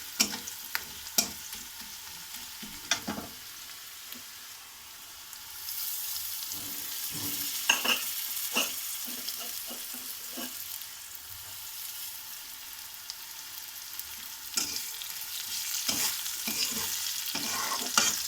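Turmeric and curry leaves sizzling in hot oil, a sharp burst of crackling as they go in, then steady frying broken by repeated clicks and knocks of stirring, close with no talk.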